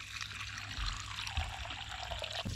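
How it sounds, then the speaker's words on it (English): Water pours steadily into a collapsible dog bowl, a continuous close splashing trickle at low volume with a few small bumps and no talking. "Nice full bowl of cool water."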